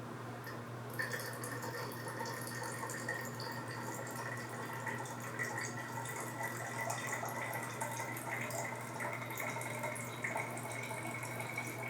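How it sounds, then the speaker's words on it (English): Teriyaki sauce pours into a bottle in a steady, continuous liquid trickle, close and fairly quiet, with no talking over it. "I'll take some regular teriyaki and pour it in the bottle, shake it up, and just thin it out in the bottle."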